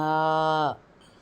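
A voice imitates a cow with one long, steady moo that cuts off abruptly, close and fairly loud.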